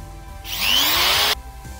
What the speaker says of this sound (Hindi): इस पर्टिकुलर पॉइंट में एक छेद करना पड़ेगा, एक ड्रिल करना पड़ेगा।